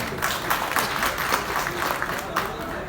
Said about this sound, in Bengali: আমি আমার ব্র্যান্ডের জন্য একটা তালি চাচ্ছি আপনাদের সবার কাছে